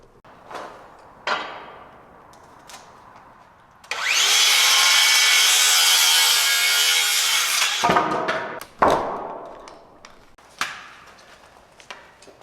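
A saw cuts wooden bottom plate boards for interior wall framing in a single-story barndominium, one loud sustained cut of about four seconds, framed by scattered knocks and clunks of handling the lumber.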